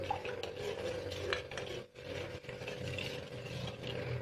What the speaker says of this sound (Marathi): ही जी पिठी साखर आहे ती ह्याच्यामध्ये ॲड करायची आहे आणि एकदम मिक्स करून घ्यायचं व्यवस्थित